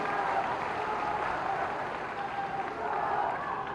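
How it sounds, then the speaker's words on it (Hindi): Sustained applause from a large crowd at a political rally, a dense, even wash of clapping that holds steady throughout, somewhat distant and reverberant. "उनका भी तालियां बजा के स्वागत कीजिए"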